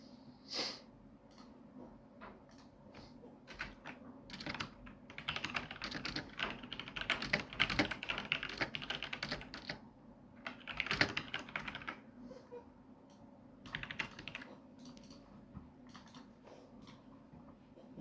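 Fingers type on a computer keyboard during an online poker session, a close, quiet run of irregular key clicks that thickens into faster bursts midway, with no one speaking.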